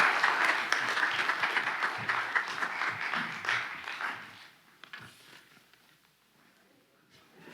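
Audience applause at a county candidate forum, a dense burst of clapping from a room full of people that gradually thins and fades to near quiet, with a few scattered claps at the end.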